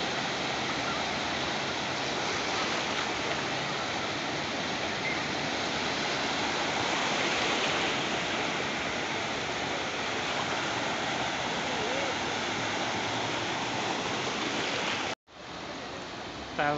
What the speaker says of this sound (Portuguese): As ondas.